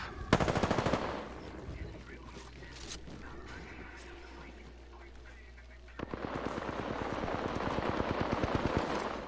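Video game gunfire rattles in rapid automatic bursts, loud and close at the start, easing into a lower steady clatter, then returning as a dense sustained volley for the last few seconds.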